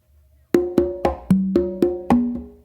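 Three congas play a makuta pattern, eight sharp hand strikes over about two seconds with resonant pitched tones that shift between drums, a light ghost-note tap helping restart the phrase, heard up close with no talking.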